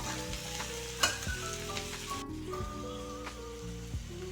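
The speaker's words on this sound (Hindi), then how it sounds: "तो थोड़ा अपन फ्राई करके फिर आगे बताते हैं" Okra (bhindi) fries in a pan with a steady crackling sizzle, broken by a few louder pops and the scrape of stirring.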